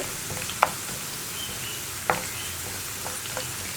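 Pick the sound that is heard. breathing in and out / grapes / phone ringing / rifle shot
grapes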